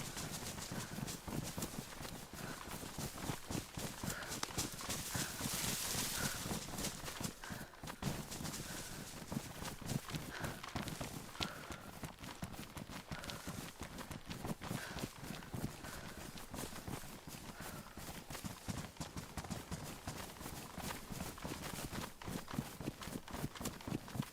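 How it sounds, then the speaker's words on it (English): In the survival video game DayZ, footsteps beat quickly and steadily for a long stretch. The rhythmic, muffled thuds could be running on a hard surface, with a faint ambient bed behind them. "I hear footsteps."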